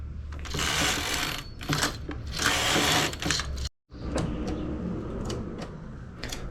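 A knitting machine carriage slides across the needle bed in long whirring, clattering passes, loud and close, pausing briefly in between; no talking.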